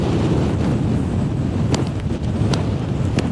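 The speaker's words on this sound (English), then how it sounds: "it's a bit breezy and very cold" Strong, cold wind on a fell walk above Ullswater roars steadily and loudly across the microphone, with a few brief gusty bursts.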